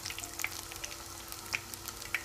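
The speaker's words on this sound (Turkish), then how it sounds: "Topu topu sadece 4-5 dakika kızartacağız." Beef meatballs fry in oil in a pan, giving a quiet, steady sizzle with scattered small crackles and pops and no voices.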